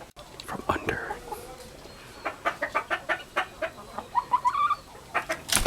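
Chickens cluck in short, rapid bursts near the recording, mixed with whispering and low voices as people move among the birds.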